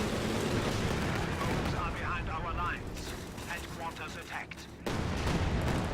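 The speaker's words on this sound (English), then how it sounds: "I'm actually just shelling my own men at this point." Artillery shells boom and crash in a World War II strategy game battle, with heavy rumbling blasts and scattered gunfire running throughout, while someone talks over the din.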